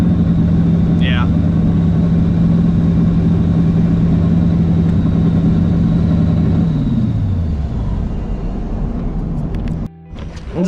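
A Ford Mustang engine sits at a high idle with a steady, loud droning hum. Near the end the pitch sinks and the drone eases down, with a brief dropout close to the finish.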